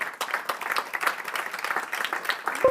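A seminar audience on Norway's engagement in the Sahel gives the panelists a round of applause, moderately loud and slightly uneven clapping from a modest crowd that carries through the whole span.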